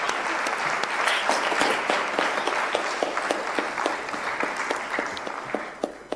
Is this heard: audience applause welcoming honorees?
yes